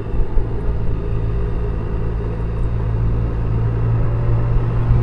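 Motorcycle engine rumbling through its muffler, a loud, steady low drone that holds without breaks and is heard up close.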